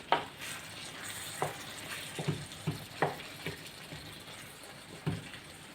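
Spoon scrapes and stirs through tomatoes sizzling in a pan, several separate clacks over a steady frying hiss.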